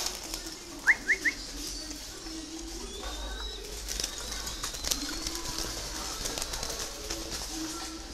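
A pigeon or dove coos low and steady in the background, repeated soft phrases over a noisy outdoor setting on a bird and ostrich breeding farm, with a brief burst of chirps near the start.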